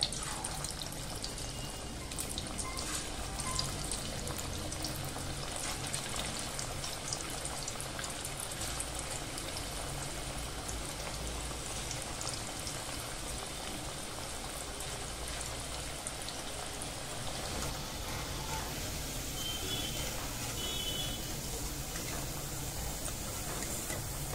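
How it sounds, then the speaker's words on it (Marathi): Masoor dal onion bhaji frying in hot oil, a steady dense sizzle with fine crackling and occasional pops that continues without break throughout. "अशा प्रकारे आपण ना सर्व भजी तळून घेऊया।"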